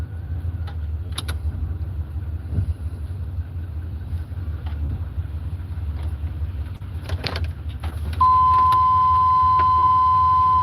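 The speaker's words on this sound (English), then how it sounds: "And I'm gonna turn this car around." A car idles and drives on after turning around, a steady low engine rumble close by with a few faint clicks, then a sustained electronic tone or beep joins near the end.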